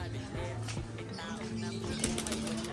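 A pigeon flaps its wings close by in a flurry of soft, rapid beats over a few seconds, with faint background sounds outdoors near floodwater.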